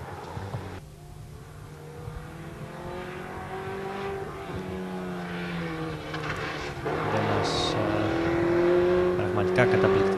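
A Daihatsu Feroza rally raid car on a stony course roars closer, its engine rising and shifting pitch as it passes, loud near the end, with commentary speech running over it.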